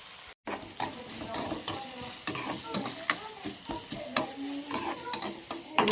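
Eggs and onion fry in a pan with a steady sizzle, while a utensil stirs and scrapes repeatedly against the metal in irregular close clicks.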